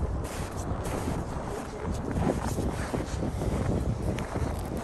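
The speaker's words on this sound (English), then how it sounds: "Wind is picking up and kind of getting cold" Strong gusting wind roars across a cold high mountain camp at about 2000 m during a winter ski touring trip, a steady broadband rush buffeting the microphone with shifting surges and no voices.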